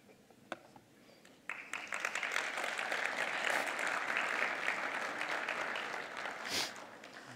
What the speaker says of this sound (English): that wasn't a very enthusiastic round of applause.